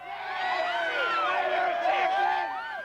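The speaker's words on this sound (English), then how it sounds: "Off the stage, players and the cup sent the crowd into a frenzy." A large crowd at a 1999 AFL premiership celebration cheers and whoops continuously, a dense roar of many excited voices at steady loudness.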